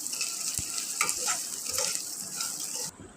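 Rice and black cumin frying in hot oil, a steady bright sizzle with occasional stirring scrapes, close and continuous before cutting off near the end.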